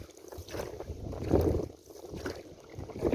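Wind buffets the microphone and water sloshes around a kayak on open water in a following breeze, a steady low rumble that swells and fades without any voices.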